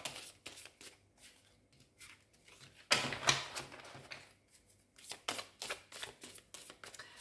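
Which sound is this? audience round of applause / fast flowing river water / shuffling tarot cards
shuffling tarot cards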